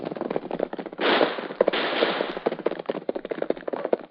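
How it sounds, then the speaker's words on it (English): Gunfire effects from a 1943 Lone Ranger radio drama gunfight, a rapid volley of crackling shots on a narrow old broadcast recording, with a continuous burst in the middle and scattered shots after. "Golly, what's all the shooting for?"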